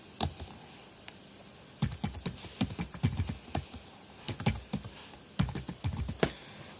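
Someone types a yum command on a computer keyboard in close, crisp bursts of clicky keystrokes with short pauses between groups.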